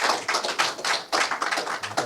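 An audience at a Korean science and technology policy forum claps after the opening and congratulatory speeches, a dense, steady patter of hands that rises and dips in waves without any voices.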